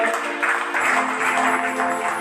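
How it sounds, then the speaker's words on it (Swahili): A church congregation clapping together in worship, dense, steady applause from many hands filling a large room, with no voices over it. "Pigia Yesu makofi"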